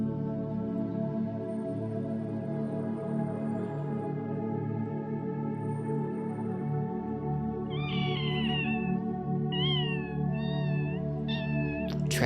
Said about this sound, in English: You heard a cat?